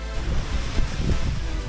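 Strong wind gusting across an open Caribbean beach on St. Croix, a steady close rumble of buffeting with surf washing underneath, no voices.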